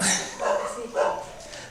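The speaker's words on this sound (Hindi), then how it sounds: "कितने कुत्ते भौंक रहे हैं?" A couple of dogs barking in short bursts somewhere near, the yaps rising and falling over a noisy background.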